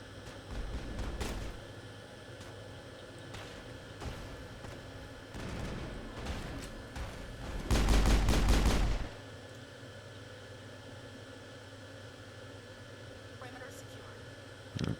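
Pistol fire in the video game Mass Effect, a loud burst of rapid shots about midway, with scattered fainter shots earlier, under a player talking.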